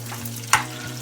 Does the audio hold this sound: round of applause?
no